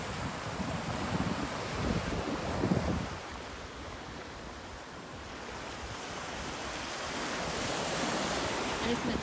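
Ocean waves wash onto a beach where dead fish and marine life have come ashore. The surf is a continuous, broad roar with heavy wind buffeting the microphone. It swells slightly near the start and again toward the end.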